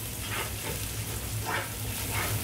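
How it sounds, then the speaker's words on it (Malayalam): Green chillies frying in hot oil for a Kerala-style chicken biryani, giving a steady, dense sizzle with a few soft stirring scrapes, close up and with no talking. "ഇനി ഇതും നന്നായിട്ടൊന്ന് മൂക്കട്ടെ"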